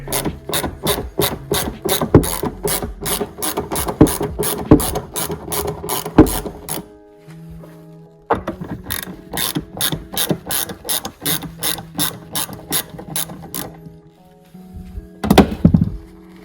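A hand ratchet clicks rapidly and evenly in long runs while backing out 10 mm trim screws on a BMW F10 M5, close and crisp, with short pauses and a few thunks between bursts.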